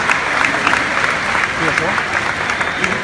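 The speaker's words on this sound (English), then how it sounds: "Can we get a round of applause for the translator?" A large convention crowd at a 2017 Comic Con panel applauds the translator with loud, dense clapping that holds steady for the whole stretch, with scattered voices mixed into it.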